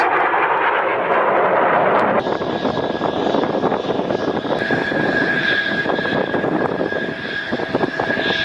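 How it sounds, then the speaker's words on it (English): Military aircraft engine roar, fighter jets flying past, a loud sustained broadband rush with a steady high whine rising after the first couple of seconds, continuous and close throughout. "They deploy fighter jets, aircraft, tanker aircraft, and helicopters."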